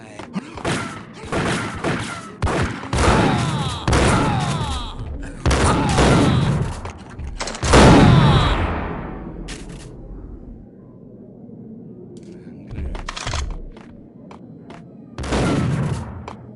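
Bursts of gunfire rattle in the mobile game Max Payne Mobile, loud clustered shots and thuds in several volleys separated by quieter pauses, with a heavy blast near the middle trailing off.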